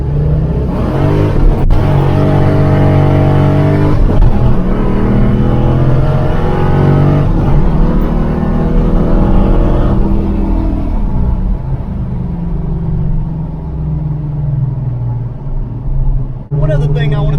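A Ford Foxbody car's engine revs hard and loud, a deep rumbling roar with rising and falling pitch that settles toward a lower growl near the end, with someone talking over it.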